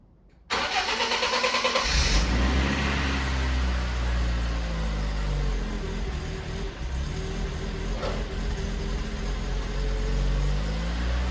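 A BMW E36 car engine, being restored, cranks briefly and catches, then settles into a steady, smooth idle close by.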